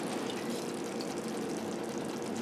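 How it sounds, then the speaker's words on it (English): Pasta water being poured into a pot of spaghetti sauce simmering on the stove, heard as a steady, close, continuous watery rush that lasts throughout with no talking. "let's throw in a little bit of pasta water"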